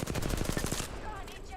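Automatic weapon fire in the shooter game Apex Legends rattles off in a fast, loud burst of evenly spaced shots for under a second, then trails into lingering echoes and faint game effects.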